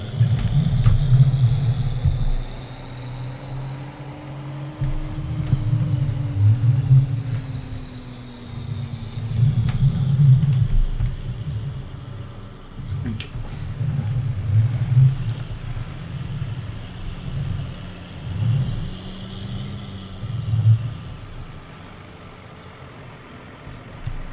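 A tractor engine in Farming Simulator 19 drones steadily near at hand, its low rumble rising and falling in pitch as the throttle shifts, with occasional faint clicks over the hum.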